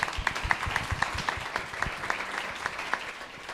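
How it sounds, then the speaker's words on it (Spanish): An audience applauds a panel of speakers at a finance conference. The clapping is dense and steady for the whole stretch, with a few louder individual claps standing out near the front. "Un fuerte aplauso para todos."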